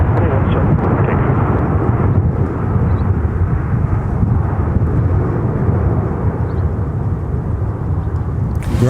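An airliner takes off from runway 17 at Minneapolis–St. Paul Airport, its engines a loud, sustained low roar that fills the whole stretch with steady broadband rumble.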